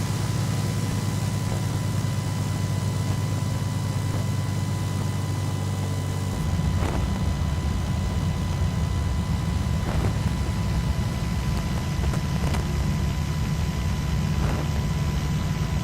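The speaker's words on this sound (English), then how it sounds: "You hear the wind in the gear." A steady, broadband whoosh of wind rushes over lowered landing gear on final approach in the X-Plane 11 flight simulator, with a low engine drone and occasional faint clicks underneath.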